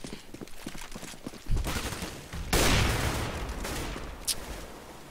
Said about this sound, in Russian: какая стрельба с ЦЗ-шки от Рубино